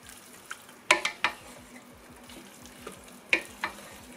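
Penne with cabbage, mushrooms, meatballs and Siciliano sauce stirred in a pan, with scattered scraping and clinking strokes over a soft, steady sizzle.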